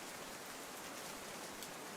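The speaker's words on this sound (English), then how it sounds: "Yeah, I know it's raining." Rain falls in the coastline area of the video game Outbound, a faint, even hiss of steady rainfall with no other sounds over it.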